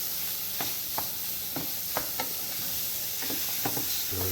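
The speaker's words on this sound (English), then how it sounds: "Stir it up real good." Picadillo made with ground turkey, garlic and oregano sizzles in a pan while a spoon stirs it, giving a steady close fry hiss broken by repeated scraping strokes roughly every half second.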